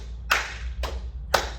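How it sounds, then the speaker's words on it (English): Hands clapping in a classroom music warm-up: three sharp, evenly spaced claps about half a second apart, close and fairly loud over a low steady hum, with no talking. "Can you pat and clap and listen all at the same time?"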